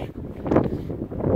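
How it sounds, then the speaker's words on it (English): Low buffeting rumble of outdoor wind hitting the microphone, gusting unevenly in short surges with no voices. "Mind the wind."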